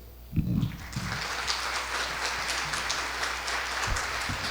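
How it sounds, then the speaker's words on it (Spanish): Loud, sustained audience applause fills the room at the inauguration of a university chair with a conference on parental responsibility, with sharp clapping starting abruptly and continuing steadily throughout. "Esa ovación enorme, inaugurada ya esta cátedra."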